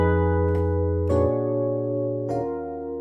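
Three sustained keyboard chords ring out one after another in a jazz 7-3-6 progression, each struck cleanly and left to decay, close and clear with no talking.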